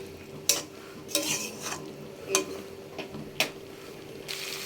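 A spoon scrapes and knocks through a spice mixture in a pan for Bengali shukto, about half a dozen separate scraping strokes over a faint low sizzle, close and fairly quiet, no voices.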